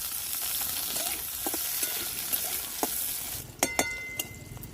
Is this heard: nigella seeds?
yes